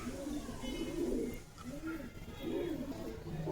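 A male pigeon coos nearby in three soft, rolling phrases with short pauses between them, fairly quiet and steady.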